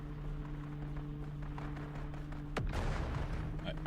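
A single sharp gunshot in the video game Dune: Awakening cracks out past the midpoint with a burst of rumble after it, over a steady humming game ambience.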